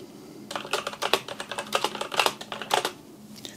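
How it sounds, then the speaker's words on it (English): Quiet linear switches on a wireless mechanical keyboard clatter in a quick, uneven burst of keystrokes, close and fairly soft, with no talking. "So I'll just do a little bit of typing out so you can hear it."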